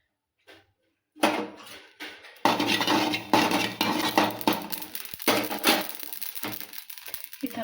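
Poppy seeds crackling as they dry-roast in a pan, an irregular stream of close, dry pops and rustling scrapes that starts after a short quiet stretch and continues at a moderate level.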